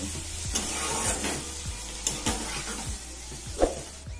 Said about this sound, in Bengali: এবার চিংড়ি মাছটাকে দিয়েও 2 মিনিট সময় ধরে কষিয়ে নেব।